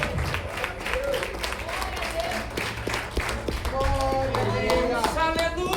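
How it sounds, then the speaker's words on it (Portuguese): A church congregation at a communion service applauds in a sustained wash of clapping, with voices and a rising sung or spoken tone layered over it. "aplauda o Senhor por essa palavra"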